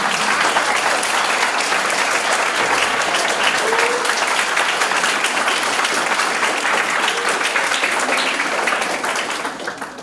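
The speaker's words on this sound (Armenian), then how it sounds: "ծափերը նաև ձերն են" Sustained, loud applause from an audience fills a school farewell ceremony for a fourth-grade class, a dense even clatter of many hands that fades slightly at the end.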